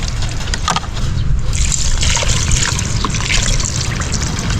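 Water poured steadily into a cooking pot while a cut fish is prepared for cooking, a continuous loud splashing trickle with no break, close by.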